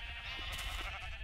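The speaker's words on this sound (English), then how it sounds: "This is my sheep farm up there." Sheep bleating on a video game sheep farm, a couple of faint, distant bleats over a steady ambient hum.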